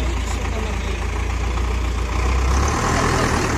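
A vehicle engine rumbling steadily at idle, then deepening and growing louder as it pulls away near a dry-grass fire, a heavy low drone filling the whole stretch.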